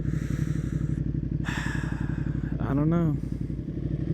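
A 2020 Ducati Panigale V2 sport bike hums with a steady, pulsing engine drone while riding, as the rider speaks briefly over it.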